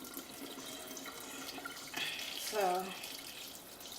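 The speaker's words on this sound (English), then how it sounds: "to clean the rice, get some more starch to come to the top, and then we're going to drain it again" Tap water runs into a sink while rice is rinsed, a steady splashing hiss that surges louder midway as the stream hits the grains and pot, with a single short spoken word near the start.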